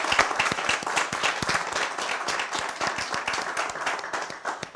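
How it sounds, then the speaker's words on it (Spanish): Audience at a diploma graduation ceremony claps steadily and densely, a sustained round of applause that holds for several seconds before thinning slightly at the end. "Un aplauso para ellos."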